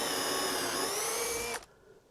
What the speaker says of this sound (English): make sure you are drilling in